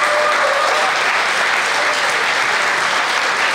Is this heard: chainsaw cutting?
no